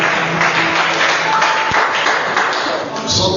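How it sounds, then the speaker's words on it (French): A church congregation claps for the Lord at a French-English prayer and fasting service, a steady wash of many hands under a loud voice. "Shall we clap for the Lord?"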